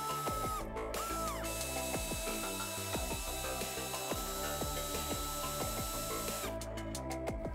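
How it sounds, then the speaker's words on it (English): A hand ratchet clicks in quick, uneven bursts while backing out the fan shroud retaining bolts on a Dodge Ram 1500 with a 5.2L V8, close and clear with metallic taps between strokes. "Remove the four retaining bolts holding the shroud in place."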